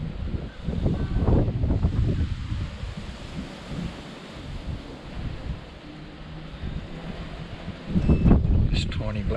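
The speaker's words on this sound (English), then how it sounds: "It's just getting windy now." Steady outdoor wind at a creek rushes and buffets the microphone, with louder gusts near the start and end.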